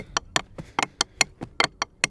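Triplet drum fill of flams alternating right and left hands with bass drum kicks, about ten sharp evenly spaced hits in quick rhythm, played close and alone.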